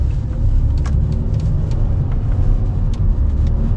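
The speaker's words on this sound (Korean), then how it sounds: "가속을 해봐도 RPM 3000을 높여봐도 크게 문제점은 없다라고 생각하고요" A Hyundai Avante AD's engine hums as it is revved toward 3000 RPM, a loud, steady low rumble heard from close by, with no talk over it.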